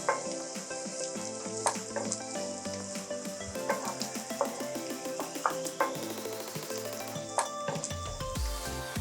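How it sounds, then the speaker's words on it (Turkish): Thick-cut onions, three medium ones, sizzle and crackle steadily in hot oil in a wide pan, with scattered stirring scrapes and clinks throughout. "Orta boy 3 adet kalın bir şekilde kestiğimiz soğanları da tavaya alalım ve kavuralım."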